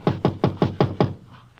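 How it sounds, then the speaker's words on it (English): Five firm, evenly spaced knocks land on an apartment door, hollow and close, in a steady rhythm before falling quiet. "You gonna knock?"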